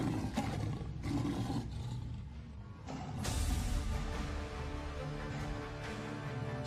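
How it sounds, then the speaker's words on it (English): A tiger roars, a deep, loud, rumbling sound that keeps going with rising and falling swells over several seconds. "King of the jungle, the tiger."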